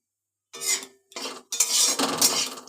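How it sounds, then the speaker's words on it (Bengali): Whole spices (three cardamom pods, two cloves, a cinnamon stick and a bay leaf) being stirred in hot oil: three loud, close bursts of scraping and rattling separated by short pauses. "এটা এগুলো একটু নাড়াচাড়া করে নিই"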